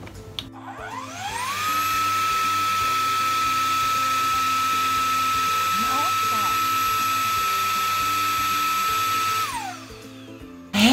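A Dyson canister vacuum cleaner that had stopped working switches on, its motor whine rising and holding steady at a loud, even pitch for about eight seconds before spinning down, with a brief voice partway through.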